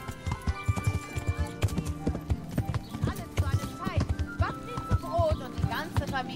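Horse hooves clip-clopping in a quick, uneven rhythm as a rider heads downhill in the game Kingdom Come: Deliverance, close and clear, with an occasional whinny and a voice talking over them.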